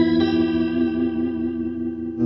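An electric guitar runs through an Electro Harmonix Lester K rotary speaker pedal, giving a fat, swirling, warbling tone. A single sustained chord rings close and steady, with a fresh strum near the end.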